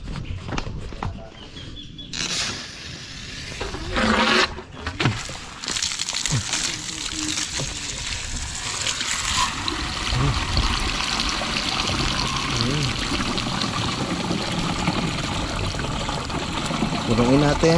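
Water poured into a container in a rural hut, a steady trickling splash that builds after a few seconds and runs on continuously, fairly close, with brief speech near the start.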